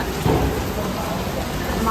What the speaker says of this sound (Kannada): ಈಗಂತ ಮಳೆ ಇದ್ರೂ ಏನು ಮಾಡೋಕ್ಕಾಗಲ್ಲ